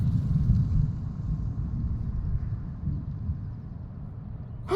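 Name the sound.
thunder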